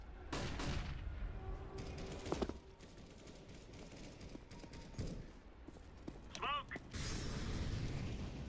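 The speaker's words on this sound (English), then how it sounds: "Flashbang." A flashbang grenade goes off in a video game. Sharp bursts of noise land over steady background game audio, with a ringing squeal and a louder blast near the end.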